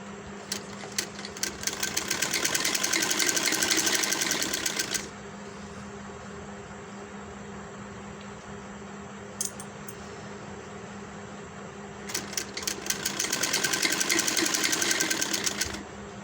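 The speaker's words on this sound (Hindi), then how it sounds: "एक पाँव के फासले पर ये सारी हम सिलाई लगा लेंगे।" A sewing machine stitches a V-neck garment in two rapid, rattling bursts separated by a quieter pause with a few isolated clicks, close and fairly soft.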